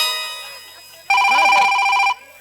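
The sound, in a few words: phone ringing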